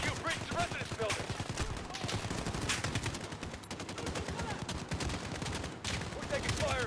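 Dense, continuous gunfire from a Call of Duty: Modern Warfare firefight, rapid overlapping bursts and single shots filling the whole stretch, with in-game voices calling out beneath the shooting.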